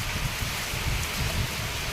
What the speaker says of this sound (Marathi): आता पाऊस पडतो त्यामुळे आणखीनच बहर येणार आहे तिला